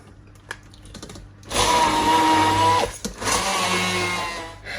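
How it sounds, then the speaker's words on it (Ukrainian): A blender whirs loudly as it grinds warm pistachios into paste, starting after a few quiet taps, running in a strained whine, pausing briefly, then resuming. "І блендером я зараз буду збивати до того часу, поки не почне появлятися олія."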